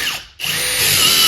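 A Ridgid impact driver drives T25 screws, whirring loudly and continuously after a brief cut-off and restart, with a rising, rapid buzzing hammer.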